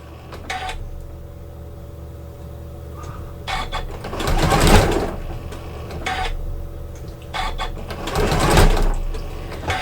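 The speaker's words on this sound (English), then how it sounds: "I'm just going to stitch until I overlap that." A Janome sewing machine stitches quilt binding on curved corners in several bursts of rapid needle chatter, each run starting and stopping with short pauses between, close and clear.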